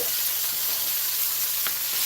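Onions frying golden brown in a pan for a beef stir fry, a constant close sizzle with a faint low hum and one brief clink.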